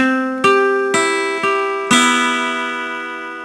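Guitar picking the open first and second strings together, as in a song: four or five ringing strums spaced about half a second apart, each note sustaining and decaying, played alone and close.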